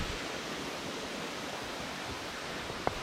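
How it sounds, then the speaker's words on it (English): A river flowing down from Yuanyian Waterfall in rainy Taiwanese mountains makes a steady, even rush of water that holds constant throughout, with one small tick near the end. "Here's the river that flows from the waterfall."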